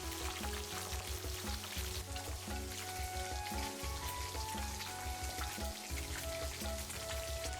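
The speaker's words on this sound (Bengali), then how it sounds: "মাছগুলোকে নেড়ে ভালো মতন ভেজে নেওয়া হচ্ছে।" Rohu fish pieces frying in hot oil, a dense, continuous crackling sizzle close up and fairly loud, steady throughout.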